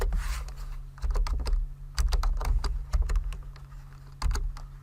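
Typing on a computer keyboard while entering a database record: close, crisp key clicks in quick irregular bursts with brief pauses, no voices.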